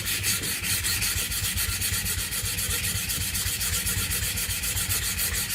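Steady, continuous rasping strokes of 120-grit sandpaper rubbed along a wooden pickaxe handle, close and loud, with a fast regular back-and-forth rhythm and no talking.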